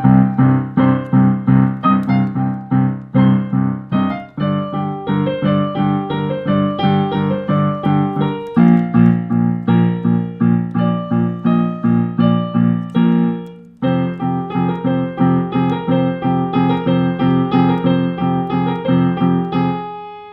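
Solo piano plays the third section of the Game of Thrones title theme, a steady flow of sustained chords and melody at moderate loudness, with one brief pause near the midpoint and no voices.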